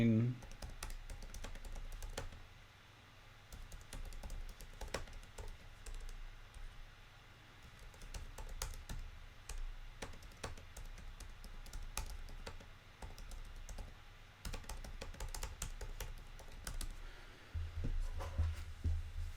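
Keys tapping on a computer keyboard while text is entered in Photoshop, a scattered run of light clicks at close range with quieter stretches between bursts.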